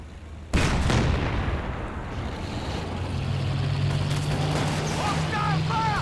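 Artillery shells from a unit force-firing the ground in a Company of Heroes 2 battle: one sharp blast, then a sustained rumbling barrage under engine drone and voice chatter.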